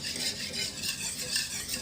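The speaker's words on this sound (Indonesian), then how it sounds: "Jangan berhenti kita mengaduknya." Srikaya custard filling for Acehnese timphan cakes is stirred steadily in a pan, a soft rhythmic scraping and swishing of utensil against metal, close and even, with no talking.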